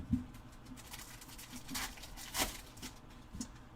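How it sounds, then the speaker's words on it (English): Rain pattering steadily throughout, with a scatter of sharper drips and louder bursts rising and falling against a soft continuous wash; no voices. "Is it raining again?"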